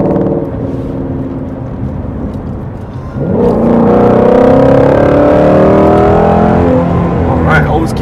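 A 2018 Ford Mustang Shelby GT350 on the road, engine droning at low revs before jumping into a loud, rising acceleration roar that holds strong through the rest, heard from inside the car.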